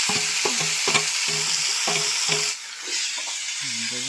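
An egg frying in oil in a pan while Maggi noodles are being made, giving a steady loud sizzle throughout with repeated stirring scrapes and clinks at a fairly even rhythm.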